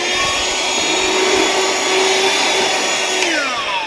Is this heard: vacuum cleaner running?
yes